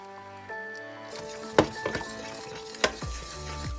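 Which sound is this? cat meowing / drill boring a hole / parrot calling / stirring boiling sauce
stirring boiling sauce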